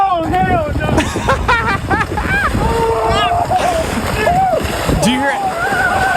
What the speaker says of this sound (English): All the splashing that you hear